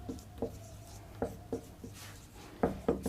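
Chalk or marker scraping on a classroom board during a physics-chemistry lecture on solid state, a series of short, separate strokes with brief pauses in between, near and fairly clear, with no voices.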